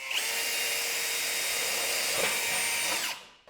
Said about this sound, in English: Then we'll drill that